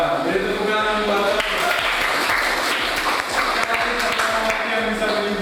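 A classroom of students applauds steadily and densely throughout a lesson on waste management, with a few voices mixed into the sustained clapping.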